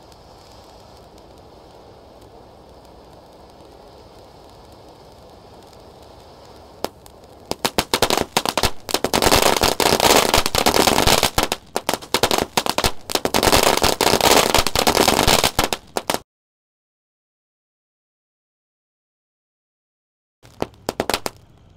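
Firecrackers set off on a Ramadan night: after a quiet stretch of low hiss, a long dense string of loud, rapid crackling bangs runs for about eight seconds, then silence and a brief final burst.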